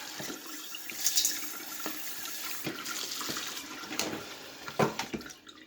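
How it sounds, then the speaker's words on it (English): A batch of tumbled rocks gets a rinse under running water, a faint steady splash with occasional louder clinks and swishes as the stones shift. "So I'm going to give this batch here one more little rinse."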